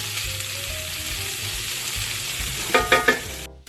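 Salted and peppered hash browns frying in a pan, a continuous close sizzle with soft stirring, ending in a few quick metallic scrapes before a sudden stop.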